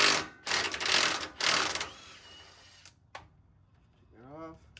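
An impact wrench or ratchet takes a nut off a sway bar link on a 2023 Ford F-150 Platinum with a 13/16 socket, in two loud whirring bursts, then a quieter tail with a few clicks and a brief voice.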